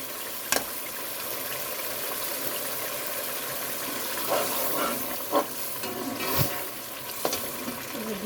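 Green chilies stir-fried in a pan for restaurant-style chicken manchurian, a steady close sizzle with a few sharp clinks and scrapes of the utensil against the pan, no voices.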